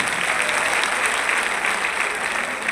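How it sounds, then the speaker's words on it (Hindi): Loud, dense applause from a large audience at a rally hall, a steady unbroken wash of clapping cheering a star guest, with no voices over it. "उस स्टार के लिए जोरदार तालियां हो रही हैं"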